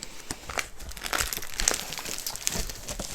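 A diamond painting kit box is opened up close, with continuous crinkling and rustling of plastic packaging and a few sharper crunching handling sounds, and no talking.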